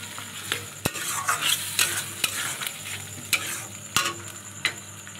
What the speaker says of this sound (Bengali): রসুনগুলোও দিয়ে দিয়েছি, যে রসুনটা মশলার সঙ্গে কষিয়ে নিলে সেদ্ধ হয়ে যাবে